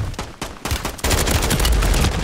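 Gunfire in a battle royale video game: a few separate sharp shots, then dense, sustained rapid fire that grows louder and rattles on without pause.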